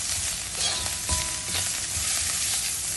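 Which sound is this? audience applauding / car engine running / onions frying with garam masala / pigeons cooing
onions frying with garam masala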